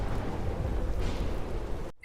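Heavy rain with rolling thunder in an animated story, a dense, continuous roar of downpour and low rumbling filling the whole short stretch before cutting off abruptly.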